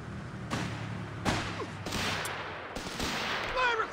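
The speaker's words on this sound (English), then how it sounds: "Fire request! Firing!" Artillery fire in Company of Heroes 3 on the Villa Literno shoreline mission: sharp booming blasts land about five times at irregular intervals over a low battlefield rumble, with a brief whistling sound near the end.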